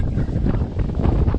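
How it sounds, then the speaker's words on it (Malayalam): Strong wind buffeting a microphone on a high hilltop wind farm among turning windmills in Idukki, a dense continuous low roar with gusty surges throughout, close and loud with no voices. "പക്ഷെ നല്ല കിടിലം കാറ്റാണ്"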